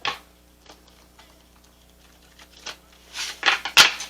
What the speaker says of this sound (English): And let's do one more shuffle.